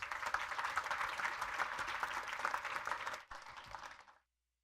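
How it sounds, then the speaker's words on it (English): An audience at a national competitiveness forum applauds a discussion panel, a dense, moderately loud clapping that holds steadily for about three seconds, dips, then continues briefly before cutting off abruptly. "Can I ask for a round of applause"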